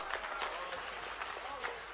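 An audience at a rally for a college inauguration in Sihawal, Sidhi district, claps steadily, a dense patter of applause lasting a couple of seconds.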